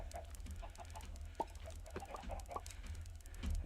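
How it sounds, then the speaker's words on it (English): Minecraft chickens cluck and squawk in short, scattered bursts over a low, steady background hum, fairly close and moderately loud. "Oh, lost chickens, lost chickens"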